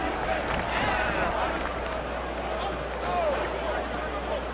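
An NBA Finals basketball arena crowd chants in a steady roaring mass, loud and continuous throughout, with sneaker squeaks and commentary voices mixed in.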